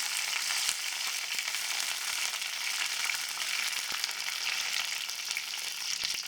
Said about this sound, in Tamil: கடுகு பொரிய ஆரம்பிச்சிருச்சு.